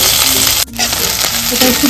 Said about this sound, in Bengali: ফুলকপি ভাজা তেলে আমি আদা কুচি দিলাম